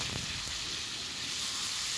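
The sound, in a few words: fried chicken being added to sizzling masala in pan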